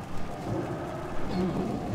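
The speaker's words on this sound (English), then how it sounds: "Rain of fire, move." A Rain of Fire spell during a World of Warcraft Mount Hyjal raid fight makes a steady, dense rushing roar, like heavy rain or crackling fire, that fills the whole two seconds at an even level.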